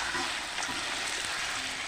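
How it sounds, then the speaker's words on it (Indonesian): An egg fries in a pan, giving a steady, soft, broadband sizzle and crackle with no pauses. "Ini saya sambil goreng telur ya."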